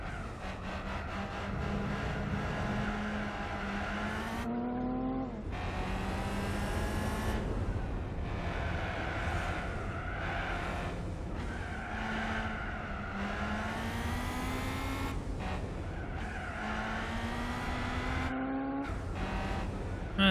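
A V8 race car engine in Gran Turismo 4 revs hard and steadily, climbing through the gears with brief drops at each shift, loud and close throughout with no talking.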